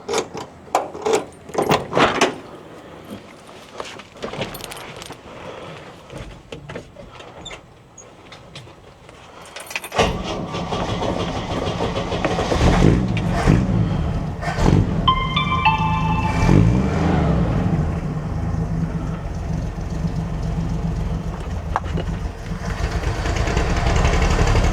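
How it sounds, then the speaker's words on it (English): An inline-six truck engine fitted with an upgraded air cleaner is started after some keys jangling and cab handling noises. It catches and then settles into a steady, rumbling idle that continues close by to the end. "I'm going to go into the car, the truck, and we're going to start it up."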